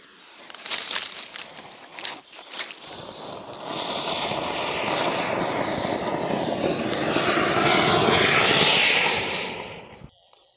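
A large flower pot firework burns beneath a coconut, starting with a few crackling pops and then building into a loud, sustained roaring hiss that holds for several seconds before cutting off abruptly.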